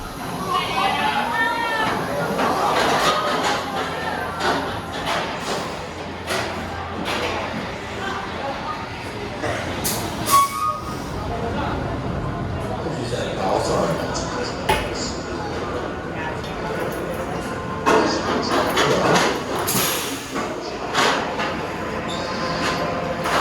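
The Infusion roller coaster at Blackpool Pleasure Beach, running poorly, rattles and roars along its track, with clattering wheels and squealing metal, shifting in intensity as it races through turns.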